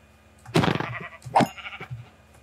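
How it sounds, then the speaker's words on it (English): Sheep bleating in the Minecraft video game, two short synthetic bleats close together, clear and fairly loud with a faint game background between them. "oh, it's a sheep"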